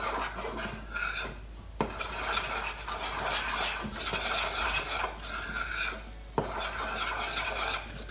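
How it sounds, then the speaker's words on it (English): Hands rubbing oil into dry ingredients in a bowl for a berry cobbler, a steady scraping and rustling with occasional clinks of the bowl, fairly close. "rub the oil into the dried ingredients until you reach the texture of breadcrumbs"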